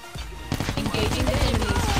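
Rapid automatic gunfire in Call of Duty Mobile, an assault rifle firing in a fast continuous burst close and loud, starting half a second in and running to the end.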